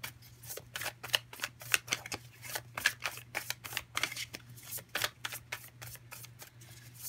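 Light Seer's Tarot cards are shuffled by hand in a quiet room, a rapid series of crisp riffling flutters and soft slaps repeating steadily for several seconds, close and fairly faint over a low background hum.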